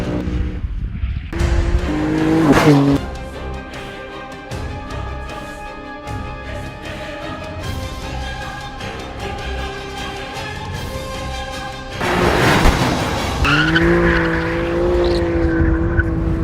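BMW M4 or Audi RS5 sports car driven hard on a race track, its engine revving loudly with rising and falling pitch as it drifts, tires squealing in sustained bursts close by.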